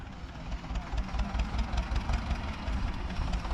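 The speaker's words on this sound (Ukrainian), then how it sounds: "Трактористи їдуть уже, дождалися." A tractor engine idles on a rural farm plot where potatoes are being hilled, giving a steady low rumble with slight knocking throughout, fairly close and continuous with no talk.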